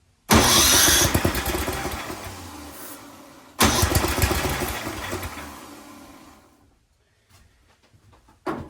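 An Ariens 1130LET track snowblower engine fires up after starting fluid and runs loudly near the listener, a brief pause splitting two stretches of steady engine noise before it drops to a faint idle.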